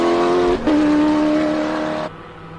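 Rui Campos's race car drives at the Simola Hillclimb on wet weather tyres, its engine a loud, close, sustained drone that briefly dips in pitch and then cuts off sharply.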